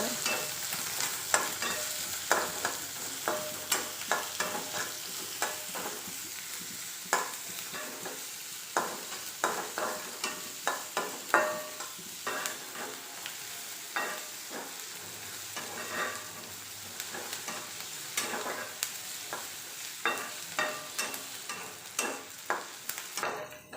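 Sliced onion frying in a pan for a potato roast, a continuous close sizzle punctuated by regular scraping stirs and light clacks of a spoon, no voices.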